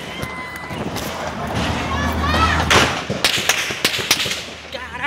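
Sharp cracks of gunfire in a police shootout outside Fiocruz, Brazil, go off in rapid irregular bursts, some close and loud, mixed with shouting voices nearby.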